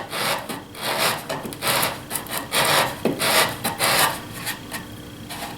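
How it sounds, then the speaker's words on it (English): Sandpaper wrapped around an old broom handle sands wood on a dovetail key joint box, giving a steady run of close, fairly loud rasping strokes with no talking. "sandpaper wrapped around an old broom handle here."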